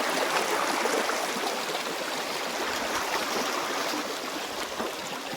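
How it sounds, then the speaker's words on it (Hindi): The Narmada river flows with a steady, full rushing of water, close and constant throughout with no voices. "और इन्हें आवाज पानी का।"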